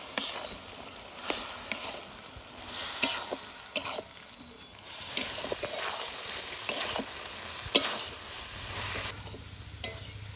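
A spice paste of ground cumin, mustard, green chillies and dried chillies with Kashmiri chilli powder fries in a pan. It makes a steady, close sizzle, broken by repeated scraping stirs of a spoon.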